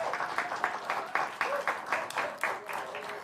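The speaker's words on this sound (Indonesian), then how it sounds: "kita berikan tepuk tangan kembali untuk para pasangan calon" An audience at a regional election debate for county head candidates claps for the candidate pairs, a dense burst of applause with several sharper individual claps standing out, steady and fairly close.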